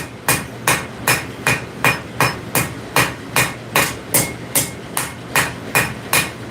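Hammer forging steel steak flippers, a steady run of about fifteen loud ringing blows on hot metal at an even, brisk rhythm, close and alone without talk.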